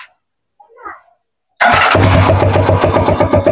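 After a brief murmur of voice, a motorcycle engine fires up loudly after its air suction valve was cleaned, catching at once and settling into a fast, even, close-up idle with rapid regular pulses.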